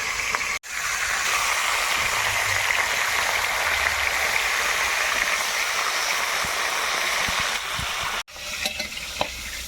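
Rohu fish heads fry in mustard oil, giving a loud, steady crackling sizzle close by. It breaks off twice abruptly and then resumes, with no speech over it.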